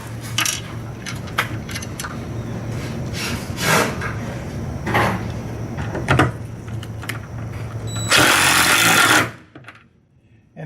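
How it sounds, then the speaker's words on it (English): A tool works on a bolt while installing an extended stop arm on an electric actuator, giving a series of clicks and knocks. It ends in a loud, dense burst of ratcheting before falling quiet. "you heard it ratchet at the end, you know it's tight"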